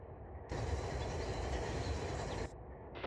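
Freight train in the Run 8 train simulator starting to move, a broad steady rumble of rolling rail cars that swells in loudly after a quiet moment and holds, then drops back near the end.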